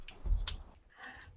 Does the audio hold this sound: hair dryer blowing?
no